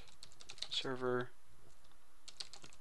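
Computer keyboard typing while entering Java server code, rapid key clicks under a voice, with a short spoken word mid-clip.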